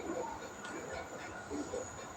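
Steady rumbling and hissing of a metro train in motion, with faint rattles and squeaks of the carriage and no clear talk.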